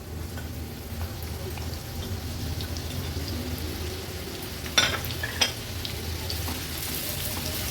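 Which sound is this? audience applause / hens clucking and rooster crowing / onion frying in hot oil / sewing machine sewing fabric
onion frying in hot oil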